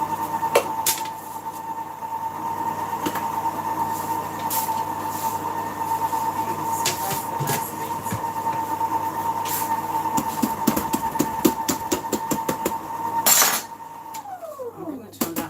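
Electric cake mixer beating vanilla sponge cake batter, a steady loud whirring hum held for most of the clip with clinks of the bowl and utensils, then the motor winding down near the end.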